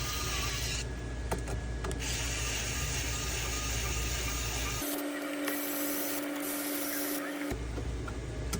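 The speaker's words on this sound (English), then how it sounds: "we'll go ahead and tighten down all of our screws into our steering wheel" A screwdriver tightening screws into the steering wheel of a Power Wheels Corvette C7 ride-on toy, heard as steady close mechanical whirring and ratcheting with a tonal drone, continuous throughout.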